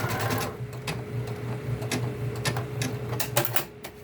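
A Bernina Deco650 embroidery machine stitching, a rapid mechanical needle chatter with sharp repeated clicks and a steady motor hum, close and alone.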